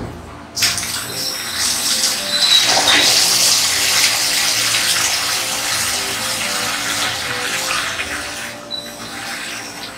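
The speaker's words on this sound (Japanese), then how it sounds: "このですね、冷水入れてからちょっと中をこうかき混ぜてください。" Cold water gushes from a tap into a bowl with sunny lettuce in a colander, a loud steady splashing that starts abruptly and runs for several seconds before easing off.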